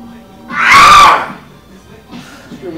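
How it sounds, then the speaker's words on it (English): A man screams loudly during a push-up workout, one sustained strained yell lasting about half a second up front, then a fainter vocal sound trailing after. "Screaming like a little girl."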